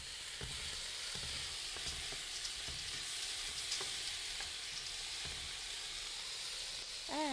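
Garlic frying in a pan on a home cooking show, giving a steady close sizzle with occasional stirring scrapes throughout.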